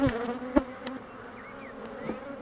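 Honeybees buzz steadily across open hive frames during a swarm-control inspection, a continuous close hum with a few brief knocks and handling sounds on top.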